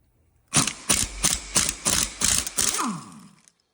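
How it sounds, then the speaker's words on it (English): An impact wrench rattles loose the left-side swing arm pivot shaft bolt on a Harley bagger, firing in about seven rapid close bursts with short gaps between them, then winding down. "we're gonna rattle the left side of the pivot shaft bolt off with the impact here"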